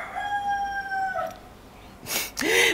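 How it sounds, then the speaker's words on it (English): A rooster crows in the background with a long, strained call, then adds a couple of harsher squawking bursts, moderately loud and slightly distant. "please ignore that chicken screaming in the background"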